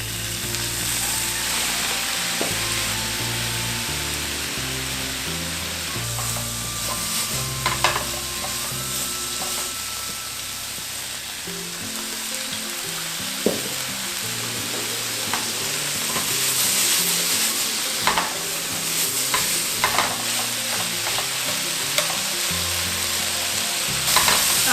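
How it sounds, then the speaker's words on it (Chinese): Cauliflower stir-fried in a wok over high heat with soy sauce, sugar, white pepper and a splash of water, a loud continuous sizzle broken by clattering spatula strokes and scraping. "我们加入酱油，然后糖、白胡椒跟一点水，让它大火炒香，把它的锅气炒出来"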